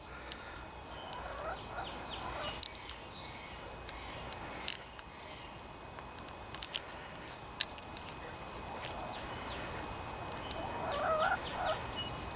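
Backyard chickens eager to be let out make scattered clucks and gobble-like calls at a moderate distance, with a faint burst of bird calls near the end, over steady background hiss and a few sharp clicks.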